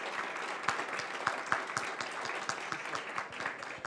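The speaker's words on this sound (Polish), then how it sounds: "gromkie brawa dla burmistrza Redy Andrzeja Krzemińskiego." A crowd applauds at moderate distance at an awards gala, a steady patter of many hands with a few louder individual claps standing out.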